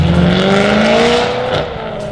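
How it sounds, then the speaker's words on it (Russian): BMW E92 M3 fitted with an Armytrix valvetronic exhaust revs loudly and steadily up close, its engine tone climbing and then easing off slightly near the end. "Самая громкая BMW M3, которую я только слышал."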